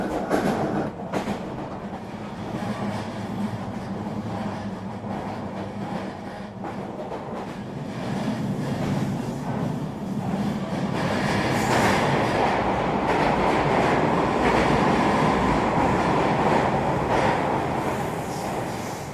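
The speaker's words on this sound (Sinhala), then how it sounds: "මම යනවා එහෙනම් ට්‍රේන් එකේ" A passenger train near Zittau rolls along with a continuous, loud low rumble and rattling carriages that swell slightly partway through the ride.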